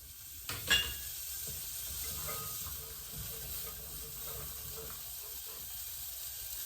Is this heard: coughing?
no